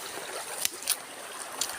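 Stream water flows along a rough rural path, a steady close rushing wash with a few brief splashy bursts, no voices.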